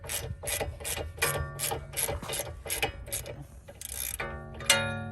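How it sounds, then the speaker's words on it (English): A ratchet wrench clicks in rapid repeated bursts as it breaks a tie rod nut free on a car's steering linkage, the metallic pawl ticks close and fairly loud, with a brief pause before a final ringing strike. "we're going to break this nut free right here"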